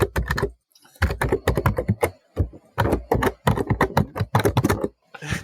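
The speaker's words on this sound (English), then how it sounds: "Jeff, it literally sounds like your microphone is inside your keyboard." Rapid typing on a computer keyboard, close and loud, with the microphone sitting right by the keys. Bursts of clattering keystrokes are broken by short pauses.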